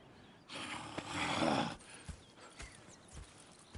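A horse in the video game Red Dead Redemption 2 snorts and blows in a broad breathy burst, followed by a few soft hoof thuds, close by with no talking.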